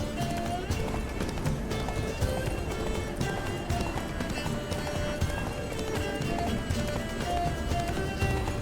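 Roach the horse gallops hard in The Witcher 3, a steady rapid clip-clop of hooves close up with an occasional whinny, continuous throughout without talk.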